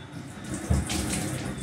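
Running tap water splashing steadily as jujube fruits are rinsed by hand, a short, close, continuous wash with a brief louder gush partway through.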